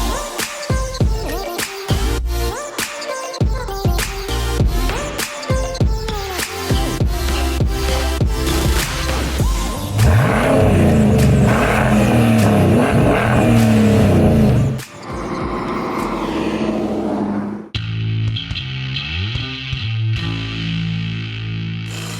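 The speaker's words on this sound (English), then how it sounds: "we're going to take you on a test drive in one of these Defenders fit with the GM LS small block V8" A 1989 Land Rover Defender fitted with a GM LS small-block V8 drives past close and loud, its engine note rising and falling through revs, with no talking.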